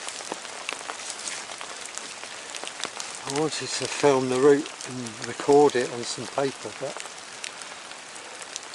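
Steady rain patters outdoors on a wet hillside route near the Gwal-y-Filiast burial chamber, a continuous hiss running the whole time beneath someone talking close to the microphone.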